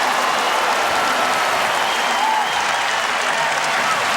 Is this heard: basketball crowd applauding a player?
yes